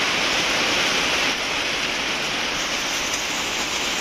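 Heavy rain after a long dry spell pours down in a green outdoor setting, a dense, continuous hiss with no break and no voices.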